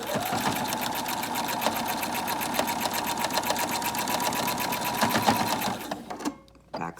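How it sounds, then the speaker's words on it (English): A sewing machine back stitches a homemade dust mask in a rapid, even chatter of needle strokes that runs steadily, close and clear, then stops abruptly near the end. "I'm gonna back stitch, come forward."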